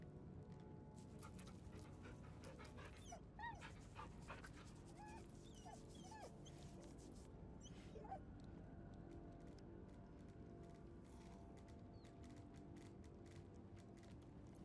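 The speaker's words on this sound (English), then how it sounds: "Of course we'll pet the dog." In Baldur's Gate 3 a dog whimpers and whines while being petted, with soft repeated high cries over creaky, mechanical background sounds during the first half, then quieter ambience.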